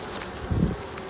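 Honeybees buzz on a frame lifted from a hive during an inspection, a low steady drone that swells briefly and loudly up close before easing back to a softer background hum.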